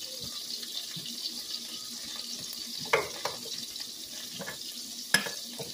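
An egg fries in a large wok-style pan with a faint, steady sizzle, broken by a couple of sharp pops and spatters. There is no talking.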